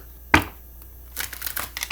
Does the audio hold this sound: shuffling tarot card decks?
yes